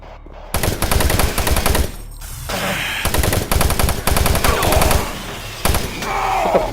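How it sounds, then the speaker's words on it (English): Loud machine-gun bursts aimed at the player in Doom 3, several long rattling volleys split by short pauses. "What the fuck is shooting me?"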